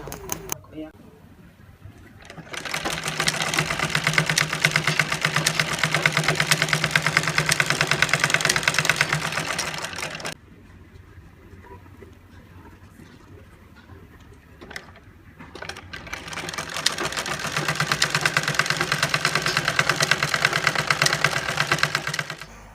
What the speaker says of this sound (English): I'll go and sew it in place